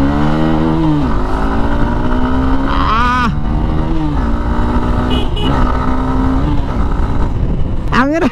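A Hero Xtreme 160R motorcycle with a 160 cc engine runs close by in a steady, continuous drone, its pitch rising and falling in a few short revs.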